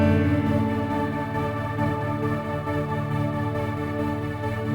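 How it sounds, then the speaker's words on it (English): A sustained synth pad plays chords at 68 BPM in a keys part for a worship song, with a pulsing, gated synth layer beneath, chopping rhythmically in steady eighth notes. "Now you hear that gated synth underneath, it playing 8th notes."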